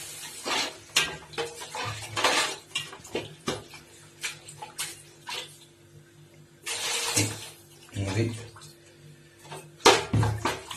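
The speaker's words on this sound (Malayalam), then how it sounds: "നമുക്ക് അതിനകത്തൊരു വെള്ളം ഒഴിക്കാം ഒരു ഒരു ലിറ്റർ വെള്ളം ഒഴിക്കണം" Water splashing and sloshing into a pot of chilli masala for a large fish curry, several pours and splashes with metal pot clatter, moderately close, no talk.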